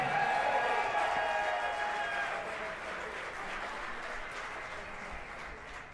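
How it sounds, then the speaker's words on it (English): Comedy club audience applauding and cheering for the headliner, a dense steady wash of clapping that fades slightly after the first couple of seconds, with some voices mixed in. "Give yourselves a round of applause for coming out tonight"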